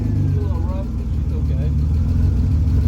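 A BMW E36 engine running and failing to hold idle, a low steady rumble close by with a voice talking over it.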